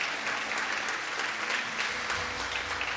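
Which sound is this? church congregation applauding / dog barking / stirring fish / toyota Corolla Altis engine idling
church congregation applauding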